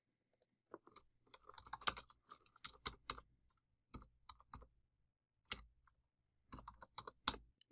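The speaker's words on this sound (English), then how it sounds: "once on the site, type in the Winkhäusen." Search text typed on a computer keyboard in short separated bursts of crisp keystrokes, close and clear, with quiet pauses between each group.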